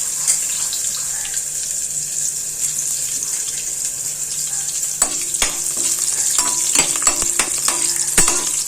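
Cinnamon, cloves and cardamom sizzle in hot oil mixed with ghee, a steady close hiss with a few sharp crackles and clinks joining in the second half; no one speaks.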